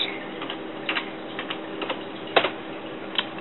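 Keys tapped on a computer keyboard, a sparse run of light, uneven clicks with a couple of sharper strikes, close and fairly quiet.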